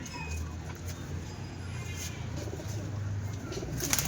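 Pigeons cooing in a pigeon market, with soft low coos repeating near the listener under light background bustle and faint voices.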